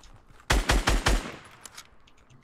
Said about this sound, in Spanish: me están disparando a la derecha